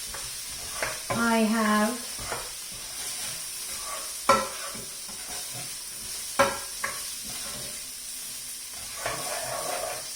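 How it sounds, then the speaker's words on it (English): Vegetables and onions sauté in a pan for vegetable khichdi, a soft steady sizzle with occasional stirring knocks and scrapes, while a person speaks briefly over the cooking. "so let that saute with the onions as well for a couple of minutes until they're soft"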